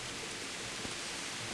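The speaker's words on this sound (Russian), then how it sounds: "Очень. Это ливень." A heavy downpour on a castle wall in Kingdom Come: Deliverance, heard as a constant dense hiss of falling rain with no breaks, moderately loud and with no voices.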